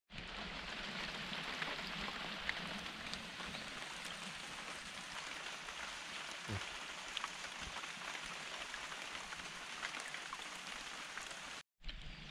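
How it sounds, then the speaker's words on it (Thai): Steady rain falling outdoors at a fishing spot, a dense continuous patter of drops on surfaces that holds at an even level throughout, with a brief drop-out near the end and no voices. "ตอนนี้มีเม็ดฝนโปรยปลายลงมานะครับ"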